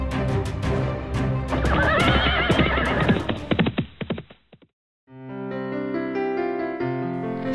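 A horse in an animated folk tale lets out a long, loud whinny with shaking, wavering calls. After a short silence, a musical sting follows.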